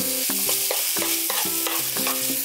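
Sliced garlic being stir-fried in scallion oil in a wok, a constant sizzle with a spatula scraping and knocking against the pan in a repeated rhythm, close and loud, without any talk.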